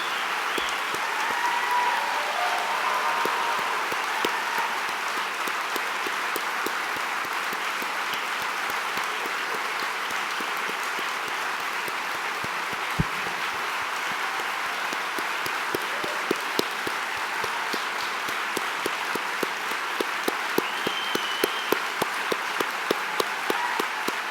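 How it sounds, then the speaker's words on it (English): A large audience at a memorial gathering gives a long, steady round of applause, dense clapping that carries on evenly for over twenty seconds. "Can we all just give them a round of applause for joining us and supporting us?"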